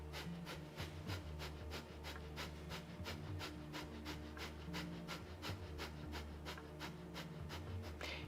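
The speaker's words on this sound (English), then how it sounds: "now breath of fire through the nose" Rapid, rhythmic breath of fire through the nose during a Kundalini yoga class, quick even pumping exhalations repeating steadily several times per second, fairly close with no talking.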